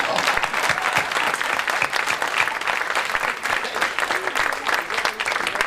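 An audience at a cabaret evening breaks into loud, sustained applause, with dense overlapping claps pulsing unevenly and a slight crowd murmur underneath.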